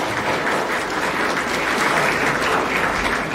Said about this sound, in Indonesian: Boleh tepuk tangan, enggak apa-apa